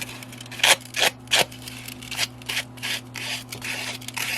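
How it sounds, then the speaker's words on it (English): Folded sandpaper rubs along the edge of a playing card in short downward strokes, a series of close, scratchy rasps of varying strength over a low steady background hum. "and trim it using the sandpaper"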